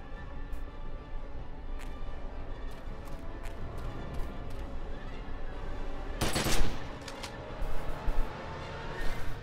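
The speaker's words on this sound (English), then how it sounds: "And last but not least, the assault rifle." Assault rifle fire in The Secret World, heard as a steady bed of rapid low gunfire crackle with a sharp, louder burst midway and a few more shots near the end, loud and continuous with no talk.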